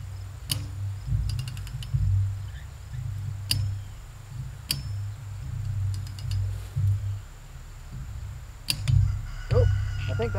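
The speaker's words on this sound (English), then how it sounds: "that's the wrench itself making the noise" A torque wrench tensioning high-tensile wire fence gives a few faint, sharp clicks spaced several seconds apart, heard outdoors over low rumbling background noise.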